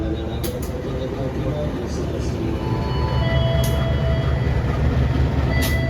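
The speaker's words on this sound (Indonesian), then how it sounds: "Kita kayak silang sama kereta api Kahuripan di sini." A Kahuripan passenger train, a budget service between Bandung and Blitar, rumbles past on an adjacent track as the trains cross, a steady close roar with brief high squeals over it.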